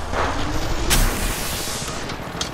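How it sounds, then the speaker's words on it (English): Gunfire and explosions from an Apex Legends match: a dense, continuous barrage of shots and booms with a sharp blast near the one-second mark, loud and unbroken throughout with no speech. "Shooting!"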